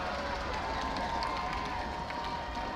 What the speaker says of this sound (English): That thunder is the people banging their feet on the metal bleachers.